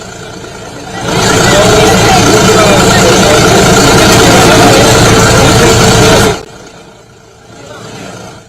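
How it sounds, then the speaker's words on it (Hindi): A tractor engine driven by the Chief Minister at an outdoor soil-worship festival roars loud and close for several seconds, then drops away to a quieter rumble. "ट्रैक्टर भी आज सीएम ने चलाया है, फिलहाल ट्रैक्टर पर ही सवार हैं"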